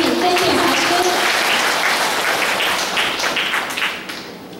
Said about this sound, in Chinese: 掌声有请曾进茶师。